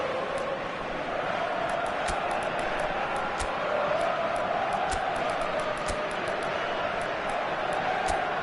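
A stadium crowd in the eFootball video game makes a steady, dense roar throughout the match, with faint repeated clicks on top.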